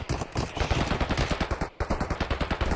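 Automatic gunfire in the shooter game Escape from Tarkov, rapid evenly spaced bursts of close, loud shots in a continuous rhythm with one brief break, no voices over it.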